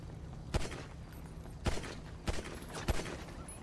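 Gunshots in GTA V NoPixel roleplay: four distinct sharp cracks spaced irregularly over a few seconds above a low background hum.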